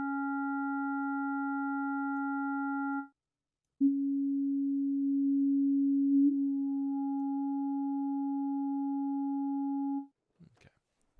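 Ableton Operator synth with a filter envelope and the LFO switched off, holding steady pure sine-like tones that stop briefly and resume, clean and sustained, with no voices.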